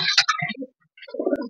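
Racing pigeons, handled one by one for vaccination, give a short soft cooing call, with a few bright higher chirps, a brief pause, then a throatier low coo, close by and fairly loud.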